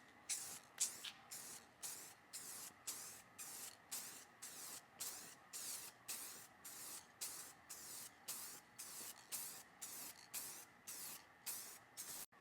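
An aerosol can sprays light coats onto a Land Rover LR3 headlight, giving about twenty short, even hissing bursts in a steady rhythm, close and fairly quiet.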